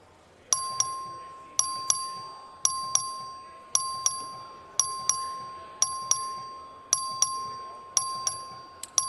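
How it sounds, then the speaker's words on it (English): A voting bell in a legislative chamber rings in a steady repeating pattern, sharp metallic strikes about once a second, each decaying quickly, with a faint room murmur beneath. "The clerk will ring the bell."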